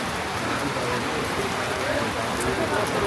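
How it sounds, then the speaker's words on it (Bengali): Heavy rain pours steadily in a village, a dense continuous hiss of drops on surfaces, loud and even throughout with no break. "এই যে বন্ধুরা এখন বৃষ্টিতে আমরা ফাঁসে গেছি"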